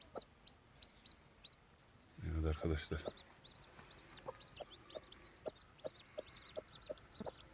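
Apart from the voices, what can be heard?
turkey hen clucking under a staircase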